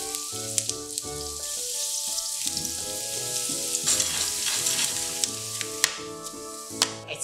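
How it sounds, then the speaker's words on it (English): Shallots and garlic crackle and sizzle steadily in hot oil, with occasional stirring clicks over soft background music. "Just adding some hot oil here, and I'll be frying the shallots and garlic."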